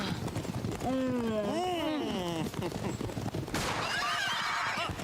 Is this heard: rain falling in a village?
no